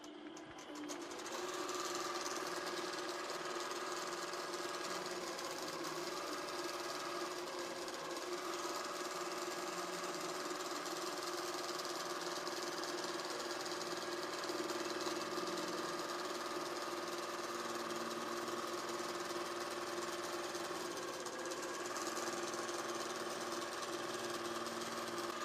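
An Innova longarm quilting machine stitches on its AutoPilot system, giving a steady, close mechanical whir with a rapid, even needle rhythm that holds without pause.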